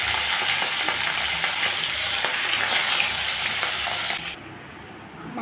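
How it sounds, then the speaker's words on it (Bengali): Pieces of fish frying in hot oil in a pan, a loud continuous crackling sizzle with scattered spits and pops that drops to a softer hiss near the end; no talking. "ছেড়ে দিলাম মাছ, এক এক করে আমি সবগুলো মাছ এইভাবে ভেজে নেব।"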